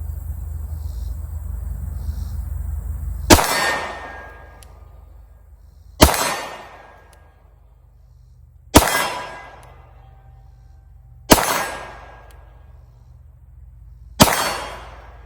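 Glock 48 pistol fired at a steel target at 25 yards, five loud, evenly spaced shots a few seconds apart, each with a sharp crack and a long reverberant tail.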